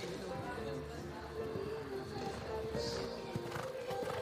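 Cintano, a 9-year-old show jumper by Cintan, moves around an outdoor show jumping arena at a youth Nations Cup event in Zduchovice, Czech Republic. Faint hoofbeats carry under steady commentary and crowd ambience.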